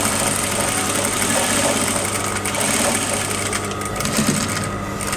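A sewing machine stitching the seam of a basic skirt, a continuous close mechanical whir with a fast steady chatter that runs throughout.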